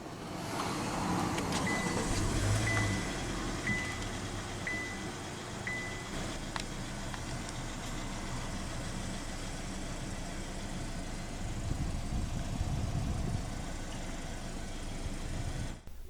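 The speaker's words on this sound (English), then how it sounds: "let's go ahead and start the engine" A 2015 Kia Optima EX sedan with push-button ignition runs at a steady idle, a low continuous engine hum heard up close from inside the car, with small bumps in the rumble and no talking.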